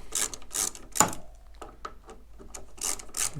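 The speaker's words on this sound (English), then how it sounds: "what we've got to do now is take out these 4 screw bolts here" Screw bolts being loosened with a T20 socket on the sat nav prep of a BMW R1200/1250 GS/A motorcycle, a few quiet rhythmic ratcheting rasps and a sharp tool click, close up.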